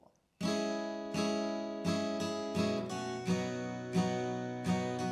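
An acoustic guitar strums bright chords in a steady rhythm, with a strong strike every beat or so and ringing sustain between, played close and alone.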